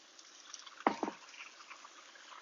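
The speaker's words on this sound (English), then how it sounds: "I want to just deglaze this pan just a little bit with some of the water" Water splashes into a pan of softened onions to deglaze it, a brief close pour and drip, fairly faint and heard alone.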